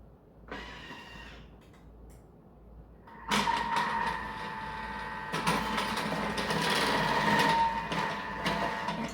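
Thermomix cutter attachment thin-grating zucchini: a short motor whir, then the blade spins up into a loud, steady mechanical whine that grows rougher as pieces are fed through, running continuously to the end.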